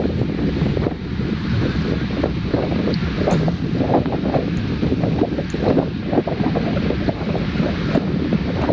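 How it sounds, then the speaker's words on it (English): Strong wind buffets the microphone during an outdoor group bicycle ride climbing a forest road, a loud, continuous rumbling gust noise with a broad rushing hiss, close and unbroken, with no speech. "We're going up, and the wind's here. Even with the trees, you can hear it."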